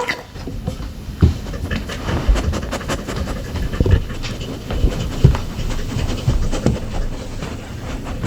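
A dog pants steadily on a walk outdoors, with quick rhythmic breaths close to the ear over a low rumbling background and occasional louder puffs.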